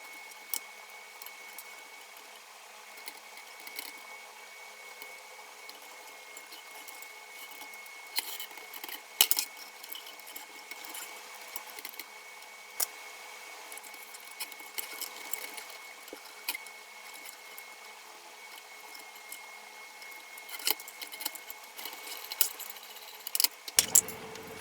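Thick nylon dial cord being strung on an old 1940s Papa-Radio, faint scattered clicks, taps and light metallic rattles over a quiet background, with a few sharper knocks now and then.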